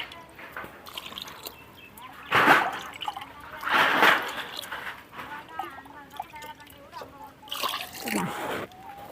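Water poured from a vessel into an outdoor cooking pot holding lentils for a rice dish, heard as several bursts of splashing and sloshing among faint drips and room noise.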